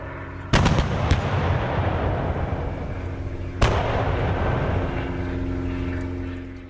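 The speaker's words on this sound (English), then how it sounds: "the sounds of naval gunfire echo in your ears as you watch the battle below." Two heavy booming naval gun blasts several seconds apart, heard from a Walrus spotter plane above the battle at Dakar, each rolling into a long echoing rumble over a constant low engine drone.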